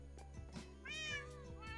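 Cat meows from a Minecraft-style survival multiplayer game, a rising mewing call with a few softer blips around it over steady game background tones.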